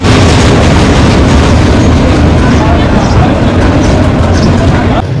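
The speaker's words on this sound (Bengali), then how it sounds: "চাঁদপুর থেকে আমাদের ট্রেন এসে গেছে মেহের রেলওয়ে স্টেশনে" A train pulling into a railway station on a Chandpur to Cox's Bazar route, a loud, dense rumble of wheels and carriages close by that continues without break for the whole stretch.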